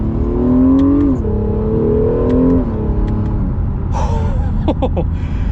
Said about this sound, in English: That is just partial throttle with this car.